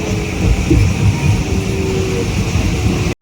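Steady rumbling interior noise of a moving train, a low continuous roar with faint rattles, cutting off abruptly at the end.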